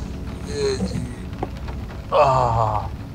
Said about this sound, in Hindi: बारिश लगी हुई है बाहर